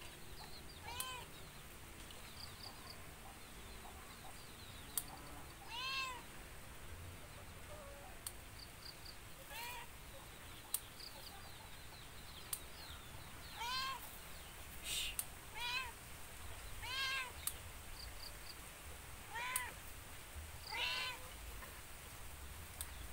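Cats meow repeatedly in short, faint calls beside a rural village house during a chili harvest, scattered across a quiet outdoor background with occasional bird or fowl sounds.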